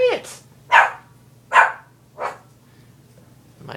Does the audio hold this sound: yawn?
no